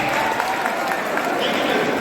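Seminar audience in Darbhanga applauding, a dense steady wash of clapping hands that fills the whole short stretch at an even, moderately loud level.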